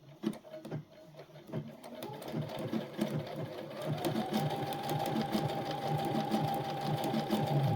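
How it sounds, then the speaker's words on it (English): An overlock sewing machine finishes a fabric edge for a pair of pants, starting with uneven short bursts and then running into a steady, fast, rattling whir at close range. "And now we're going to overlock these stitches. So that way the edge will not fray."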